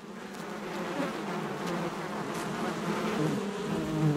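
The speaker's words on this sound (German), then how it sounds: "Die Honigbienen sind von dem großwüchsigen Eindringling daher kaum irritiert." Honeybees buzz steadily around a large moth at the hive, a dense, close, continuous insect drone swelling slightly in loudness.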